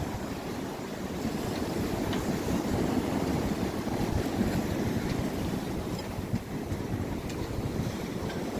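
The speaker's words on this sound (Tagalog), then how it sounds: "ganito kaingay ang tubig, ganito kalakas ang alon" Loud winter sea surf, with waves churning and water rushing continuously alongside steady wind buffeting the microphone, no voices over the roar.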